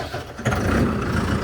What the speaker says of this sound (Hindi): करते हैं स्टार्ट ट्रैक्टर।